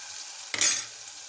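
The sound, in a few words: onion paste frying and stirred in oil with green chillies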